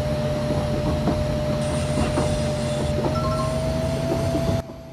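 Train driving in the Indian Train Simulator mobile game: a steady rolling rumble of wheels with rhythmic rail clicks, a constant tonal hum and brief high tones, cutting off abruptly near the end.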